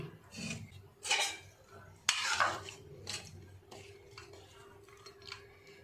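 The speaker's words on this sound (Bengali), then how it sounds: "এবার ঢাকাটা খুলে আপনাদের দেখাচ্ছি কেমন দেখতে হয়েছে দেখুন।" A pressure cooker lid is lifted off after cooking country chicken, giving metallic clanks and a sharp clatter, with soft handling noises between and no talk.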